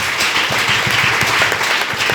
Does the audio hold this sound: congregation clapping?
yes